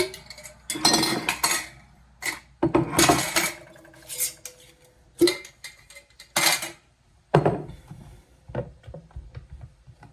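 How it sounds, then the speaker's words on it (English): Glass jars and metal lids clink and clatter in bursts as they're picked up and set down, bright ringing knocks separated by short quiet gaps. "So I just grabbed a few jars here and a few lids to put them in."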